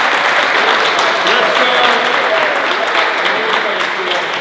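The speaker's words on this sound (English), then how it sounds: "Round of applause" An audience at a congressman's special announcement event gives a sustained round of applause, loud and continuous, with a few voices faintly audible within the clapping.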